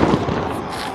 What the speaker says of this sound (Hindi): लेकिन आतिशबाजी आप बिल्कुल अपने स्क्रीन के सामने जरूर देख सकते होंगे